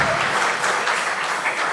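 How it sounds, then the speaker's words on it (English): Loud, dense audience applause at a large youth conclave in Delhi, a steady wash of many hands clapping without a break, close and full, with faint voices mixed underneath. "I think we deserve a bigger round of applause."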